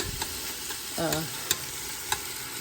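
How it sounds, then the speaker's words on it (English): Onion, garlic and ginger frying and caramelizing in a pan, a soft continuous sizzle with a brief stir scrape and a couple of light utensil clicks, close and moderately quiet, no talking. "So I'm going to let this caramelize a little longer"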